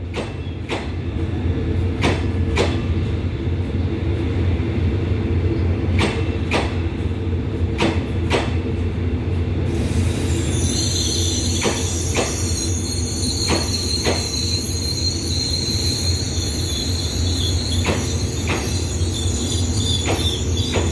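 An express passenger train running from Chiang Mai to Bangkok, hauled by a QSY-class diesel locomotive: a quiet steady rumble with repeated sharp clicks of the wheels, and later a high metallic squeal of wheels or brakes.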